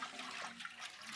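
Water splashes into a dry toilet bucket in a short, soft pour, a faint continuous gurgle and trickle lasting about a second with no voices.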